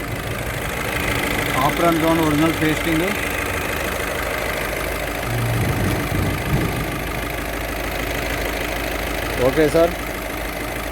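A 2016 Volkswagen Polo 1.5 TDI Highline diesel idles steadily with a low, even rumble throughout, while someone talks over it.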